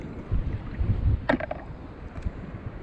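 Strong force 5–6 sea wind buffets the microphone on a beach during shore foraging, a continuous low rumbling roar that swells and fades, with a brief sharper rustle midway.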